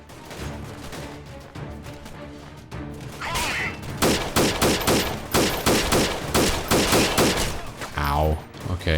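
Rapid gunfire in the game Freeman: Guerrilla Warfare, a dense rattling fusillade that builds into evenly spaced heavy bursts, close and loud throughout.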